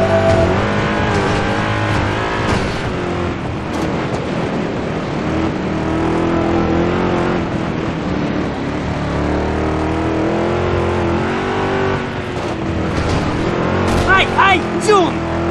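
A car drifts in the Driver: San Francisco game, a loud continuous engine drone with shifting revs and a brief tire squeal near the end, while a voice talks over it.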